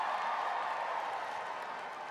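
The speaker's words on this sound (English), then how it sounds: "you guys need to give yourself the biggest round of applause" Audience applause at the BravoCon 2023 fan convention in Las Vegas during a Real Housewives panel, a steady wash of clapping from a large crowd that fades slightly toward the end.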